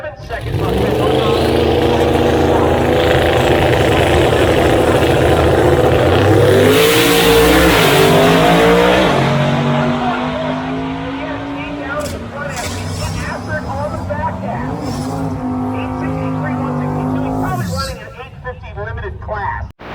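A Camaro drag racing car launches on a license pass at roughly 150 mph, its engine roaring loud and close through rising gear pulls before cutting off, with an announcer talking over it.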